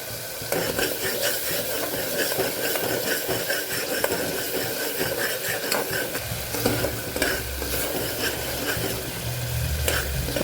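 Tomatoes sautéing in oil in a pan for Vadodara-style sev usal: a loud, unbroken sizzle and bubbling with soft stirring scrapes throughout, heard up close and without voices.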